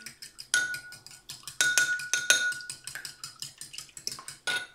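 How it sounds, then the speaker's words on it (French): A fork beats melted butter and eggs together in a bowl, giving quick repeated clinks and scrapes against the sides in an uneven rhythm, close and fairly loud with no talking. "Beurre fondu, œuf, on va mélanger les deux éléments ensemble."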